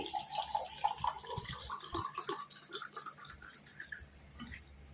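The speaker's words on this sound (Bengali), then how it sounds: "এর মধ্যে আমি একটু ঠান্ডা জল নিয়েছি, দেখো ঠান্ডা জল দিয়ে দিচ্ছি।" Cold water poured into a glass of lemon sherbet sweetened with sugar: a faint, steady trickle with small splashes and drips, fairly close and continuous.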